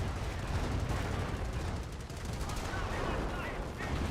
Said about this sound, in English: 30 cal still firing away